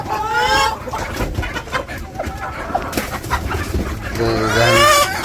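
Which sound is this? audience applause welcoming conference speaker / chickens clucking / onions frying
chickens clucking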